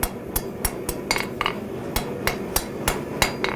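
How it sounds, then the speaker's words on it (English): A hammer strikes hot steel on an anvil to straighten it, ringing metallic blows in a regular rhythm, roughly a dozen loud hits close by. "We're then going to run back to the anvil and give it a little straighten."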